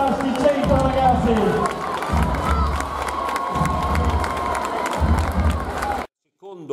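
Carnival crowd at the Cento carnival cheering and applauding loudly and continuously, with shouts and children's voices over rhythmic clapping, ending abruptly into silence.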